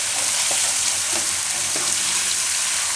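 Spice masala sizzles and fries steadily in hot oil over a medium gas flame, a continuous close crackle with a few faint stirring knocks.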